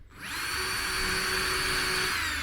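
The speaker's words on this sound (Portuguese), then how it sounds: "uma furadeirinha elétrica, ainda a bateria, tá? O furo que você vai fazer aqui é quase que um furo guia para o parafuso" A small cordless electric drill bores a pilot hole for a screw, spinning up fast into a steady high whine, close and continuous with no voices.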